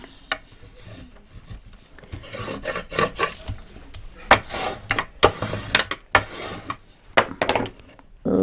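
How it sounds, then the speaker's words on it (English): A glued paper card is rubbed down firmly by hand, giving a run of close, dry scraping and rasping strokes in irregular bursts that grow louder toward the end, with no talking. "Burnish everything."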